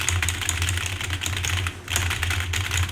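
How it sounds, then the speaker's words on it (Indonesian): Typing on a computer keyboard, close and continuous with rapid uneven keystrokes, a brief pause near the middle, and a low steady hum from a computer fan underneath. "Oke, jadi kita akan coba saja dengan ketikan."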